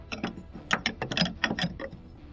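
A 10 mm wrench tightens a nut on an FJ Cruiser exterior mount, with quick bursts of close, crisp metallic ratchet clicks over about two seconds.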